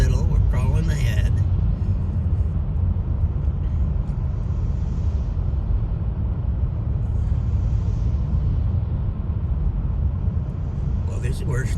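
Slow-moving road traffic on a Vermont drive, heard from inside a vehicle as a constant low engine and road rumble, with voices talking over it.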